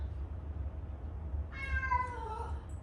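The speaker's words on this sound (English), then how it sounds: "Sorry, that's my cat." A house cat lets out a single drawn-out meow partway through, a wavering, falling cry over a quiet indoor room with a low steady hum and no talking.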